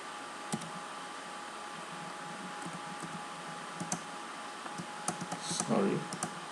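Code being typed on a computer keyboard, a steady run of close, light key clicks over a faint hiss of background noise.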